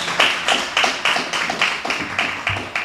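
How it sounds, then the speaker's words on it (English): Rhythmic clapping at a live podcast taping: about a dozen evenly spaced, fairly close hand claps in a steady beat, with no voices. "Give a round of applause"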